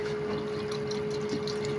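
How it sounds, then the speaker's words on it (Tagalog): Water runs steadily into a cooking pot while dinuguan is being made, a soft continuous trickling and gurgling close by, with a faint steady hum underneath and no talking. "lalagyan po natin yan ng tubig"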